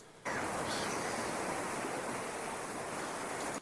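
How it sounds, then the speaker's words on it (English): Ocean sound effect used as quiet background texture in an EDM track: steady broadband surf-like hiss that switches on abruptly, holds evenly for about three seconds, then cuts off, with no speech. "And then I have this ocean sound effect right here,"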